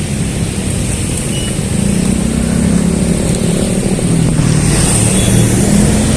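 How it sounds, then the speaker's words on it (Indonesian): A bus passing along a street by a city park on a rainy day, giving a steady, loud broadband engine rumble and road noise that builds slightly toward the end, with no talking. "Ini ada bus."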